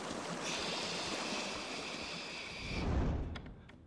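Water sprayed from a hose or nozzle onto a burning chair, a steady hissing rush up close that fades after a few seconds, ending with a low rumble and faint knocks.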